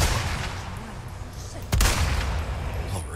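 Gunfire in the Resident Evil 4 Remake video game rings out from somewhere overhead, a steady volley of shots over a rumbling backdrop with one louder close blast partway through.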